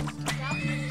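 A horse neighs in the oil-drilling video game Turmoil, a short whinny over a steady synthetic drone, with faint hoof clip-clops mixed in.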